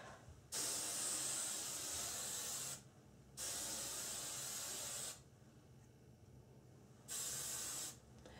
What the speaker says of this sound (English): I had to actually buy a little can of hairspray. So let's see how this works.